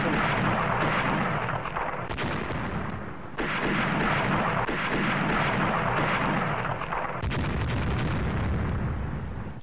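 Naval gunfire in the ship combat game Rule The Waves, heavy booming salvos rolling into one another in a loud, continuous roar with repeated fresh blasts.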